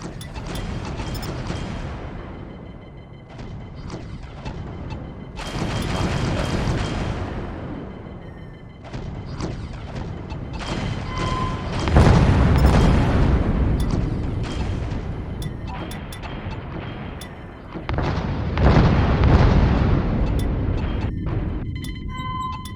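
A torpedo array fires aboard a spaceship in Infinity: Battlescape, with repeated heavy mechanical whooshes and booming launches surging and fading in waves over a steady engine hum.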